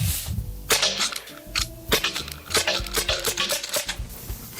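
A Byrna HD launcher fires a quick string of sharp, snappy shots outdoors, several cracks following one another in an uneven rhythm with background noise between them.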